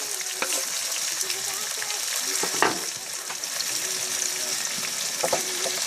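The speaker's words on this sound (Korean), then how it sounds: "묵은지 먹기 편하게 같이 볶아줍니다" Aged kimchi stir-fries in a pot for mackerel kimchi stew, a steady close crackling sizzle with a few sharp spoon-scrape clicks as it is tossed; no talking.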